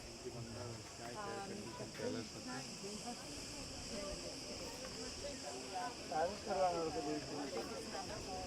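Loud cicadas at the ancient Minoan site of Knossos on Crete, a constant high buzzing drone filling the air throughout while people talk nearby.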